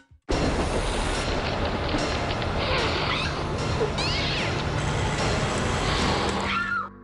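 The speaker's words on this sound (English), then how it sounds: "This is a cat, not a criminal." A cat meowing a few times, short rising calls heard over a dense, loud background wash of noise and music-like bed, with no talk.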